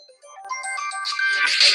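An iPhone ringtone rings loud and close, a melodic electronic tone that grows brighter and fuller over nearly two seconds, with no talk over it.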